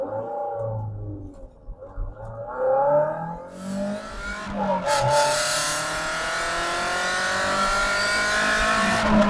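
A car on a test drive after a fuel filter and oxygen sensor change, its engine revving hard through the gears with rising pitch sweeps, then pulling strongly to high revs, loud and close.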